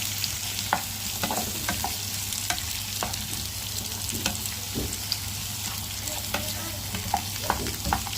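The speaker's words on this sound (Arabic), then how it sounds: "نزلنا بالزيت، الزيت سخن، هبدا انزل بالبصل" Two medium onions, cut in wedges, sizzle gently in hot oil and are stirred now and then, with scattered scrapes and clicks of the utensil over a steady quiet frying hiss.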